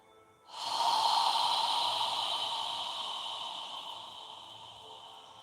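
One long, deep breath during yoga, starting abruptly and slowly tapering as air flows out, close and quiet with no talking.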